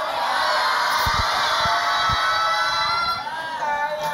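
A game show studio audience, on the Indonesian Family 100, shouts and cheers together in a loud, continuous crowd roar lasting several seconds.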